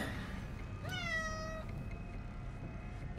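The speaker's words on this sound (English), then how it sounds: "Here's the cat that doesn't like me." A single clear cat meow, a rising then steady harmonic cry lasting under a second, over low background hum in an indoor home setting, no speech.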